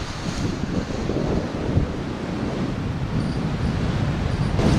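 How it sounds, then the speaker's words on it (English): Steady wind buffets the microphone outdoors by a river along the Delaware Canal, a constant rushing roar with low rumbling gusts and no voices. "It's windy out here though."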